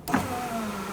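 A 1992-1996 Toyota Camry front door power window motor whirs into motion after a sharp click, a steady humming drone running through the whole second, close and clear.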